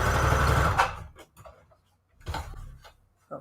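Short, close bursts from a sewing machine stitching fabric scraps, a brief run of rapid stitching followed by a few quieter clicks and a second short burst.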